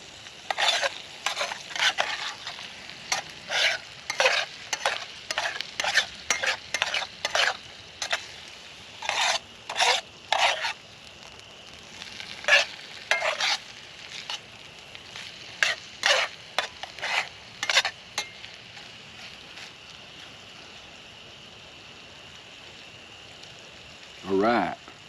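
Breakfast frying in a metal canteen cup over a Trangia stove outdoors gets stirred in bursts of scraping and sizzling strokes, repeated in rhythmic clusters with a steady low hiss between them.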